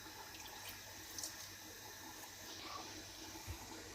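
Water is poured from a tap-like stream onto couscous being prepared in a home kitchen, a steady faint splashing trickle with a few small clinks, no talking.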